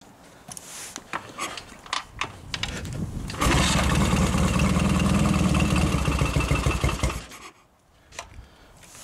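Triumph Bonneville T140 motorcycle engine running on the bench while a charging system fault is worked on, a loud steady throbbing idle that swells for several seconds and then drops away, with quieter mechanical clatter before and after.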